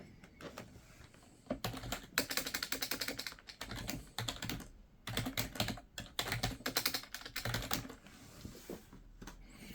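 Brisk typing on a computer keyboard, quick bursts of clacky keystrokes with short pauses between runs, close up and fairly loud.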